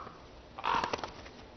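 A crow gives a short, harsh burst of caws, moderately distant, against a quiet background.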